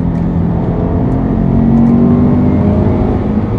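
Loud, close engine roar from inside a Subaru Legacy S401 sedan under hard acceleration as its second turbo comes on, a steady rising drone with a faint whine over it and no speech.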